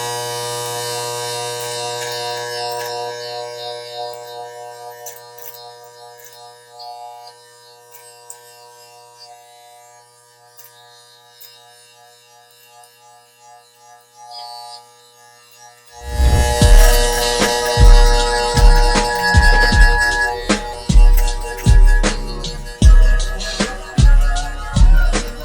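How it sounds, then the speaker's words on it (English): Electric hair clippers buzzing steadily during a home self-cut fade, first a thin hum, then louder rhythmic cutting bursts as the blade bites into hair, close up without speech. "as soon as you hit that guard line, you're gonna hear the hair getting cut off"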